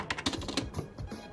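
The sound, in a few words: typing on a non-mechanical gaming keyboard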